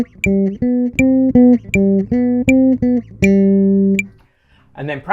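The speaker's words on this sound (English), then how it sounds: "Then I put the metronome back in on that one phrase, like this." Metronome clicks in sharp, steady beats alongside a slow, practiced arpeggio phrase of short, even notes, with a voice starting briefly at the very end.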